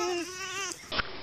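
A goat bleats loudly and close by, one long wavering cry followed by a shorter call, with no one talking over it.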